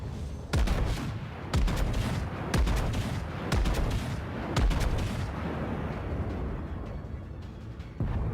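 Heavy naval guns, a battleship's 14-inch main battery in the World of Warships video game, boom in five loud, evenly spaced salvos, each blast rolling into a long rumbling decay under continuous battle noise.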